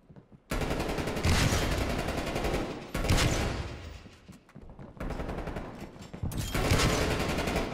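Rapid bursts of automatic gunfire in a prop hunt video game, loud and close, coming in several long volleys separated by short pauses.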